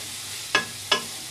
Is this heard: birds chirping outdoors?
no